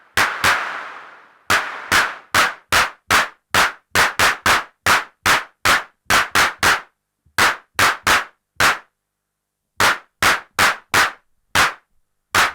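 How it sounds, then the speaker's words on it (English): An Arturia Drumbrute Impact drum machine plays its clap sound as sharp, dry, loud hits, first in a run of steady beats and later in irregular bursts separated by short gaps. "I got the clap."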